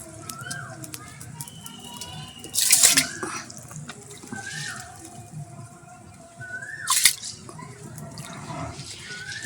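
Water runs into a cooking pot in two brief splashing pours, with quieter drips and household sounds between them.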